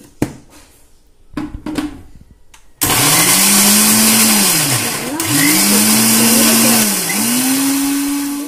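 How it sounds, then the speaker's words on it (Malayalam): After a few quiet handling knocks, a kitchen blender grinding garlic and spices for tandoori masala starts up loud and close. Its whirring motor sags and recovers in pitch several times as the load shifts. "ഇത് ഒന്നും കൂടെ അടിച്ചെടുക്കുക"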